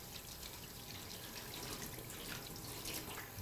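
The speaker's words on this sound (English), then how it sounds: "wash the brush like this" A paint brush used with water-mixable oil paints is rinsed under a running tap, giving a steady, faint hiss of flowing water splashing into a sink without pause.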